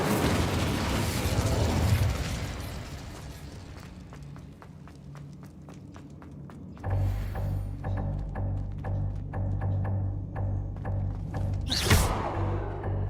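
Incendio, a fire spell cast in Hogwarts Legacy, produces loud whooshing bursts of flame at the start and near the end, with rhythmic clicking effects in between.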